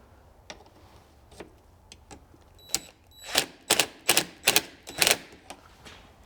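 Tightening a metal bracket on a Kubota BX tractor cab gives a quick run of sharp ratcheting clicks and metallic ticks, sparse at first and then bunching into a denser burst, close and fairly faint.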